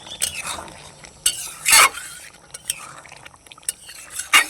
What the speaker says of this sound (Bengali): গরম মশলা দেওয়ার পরেও তরকারির সঙ্গে ভালোভাবে মিশিয়ে নেব।